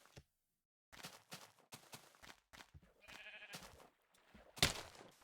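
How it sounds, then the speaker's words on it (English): Sheep bleating in Minecraft, several short game-sound bleats in an uneven series, clear and close against otherwise silent gameplay, with one louder bleat near the end. "I hear sheep."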